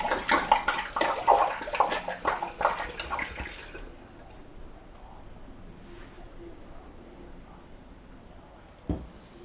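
Vodka poured from a bottle into a vessel of wild plums for plum wine, a loud gurgling splashing pour for about four seconds, then quiet with a faint clunk near the end.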